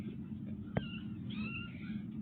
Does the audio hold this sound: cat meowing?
yes